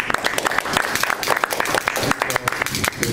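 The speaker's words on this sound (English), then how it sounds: "Let's give Priscilla a round of applause." Round of applause for Priscilla, a speaker at a talk event: a short burst of clapping from a live audience, close and fairly loud, with a voice mixed in.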